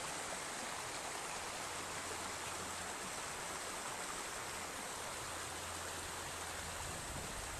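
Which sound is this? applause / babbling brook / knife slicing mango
babbling brook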